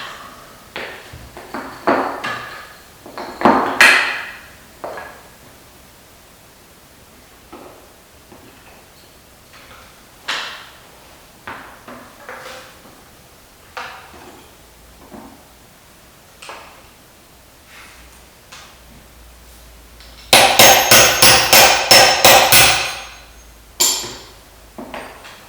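Rifle parts struck and handled during assembly: scattered metallic taps and clinks at varied spacing, then a dense burst of rapid hammer blows near the end, with no talking.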